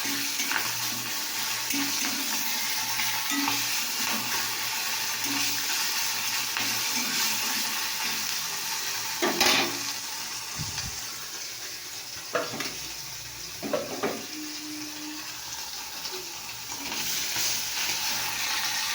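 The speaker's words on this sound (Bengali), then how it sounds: "এটা মাছের তেল ভাজা।" Fish fat fries in a pan with turmeric and chilli, giving a steady soft sizzle with occasional scraping stirs and clinks, moderately close and without talk.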